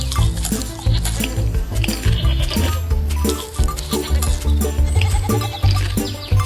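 Cartoon goats bleating over a busy animated soundtrack, with loud bright music and effects filling the whole stretch and short bleats set against the score.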